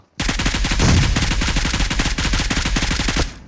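Rapid automatic gunfire in the video game PUBG Mobile rattles off in a steady burst for about three seconds, loud and close, with a brief heavier thump near the start.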